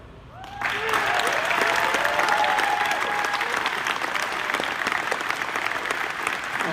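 A large crowd claps loudly and steadily, starting abruptly and sustaining a dense, even roar of applause throughout.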